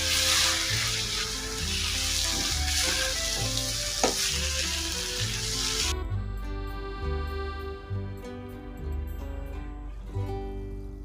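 Tuna tin fish masala with chopped coriander sizzles in a frying pan while being stirred, a loud continuous hiss with scraping strokes over a steady background, quieter and thinner in the second half.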